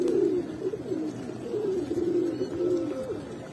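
A female pigeon coos close by in a steady, rolling series of soft throaty calls, with no voices over it. The bird is one of a pair offered at a pigeon sale.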